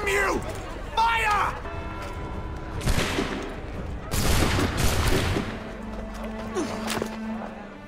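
Musket volleys crack out in the Assassin's Creed III video game as several loud, ragged bursts of gunfire, with shouting voices and battle noise between the shots.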